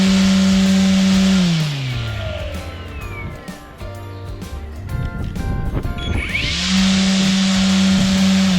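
An EGO Power Load cordless string trimmer spins up loud and steady, winds down briefly, then revs back up to a strong whine close by.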